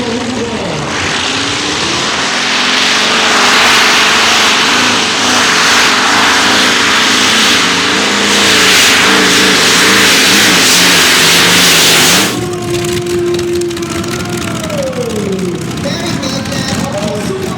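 A tractor-pulling machine, with engines as large as helicopter turbines, airplane or tank engines, roars loud and close with a sustained turbine-like whine and rising revs, then cuts off sharply as a crowd and excited commentary carry on.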